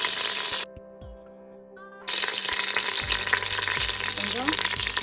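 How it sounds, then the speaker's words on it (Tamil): Curry leaves hit hot oil while tempering for a Tamil fish curry, meen kulambu, setting off a loud crackling sizzle that drops away for a moment and then returns at full fry with bursts of spattering. "கருவேப்பிலை போட்டுக்கிறோம்"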